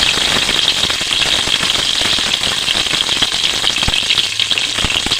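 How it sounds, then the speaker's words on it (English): Cooking oil sizzles loudly and continuously in a pressure cooker, a dense bright hiss with rapid crackling spatters throughout, up close, with no speech. "Cooking oil in the pressure cooker"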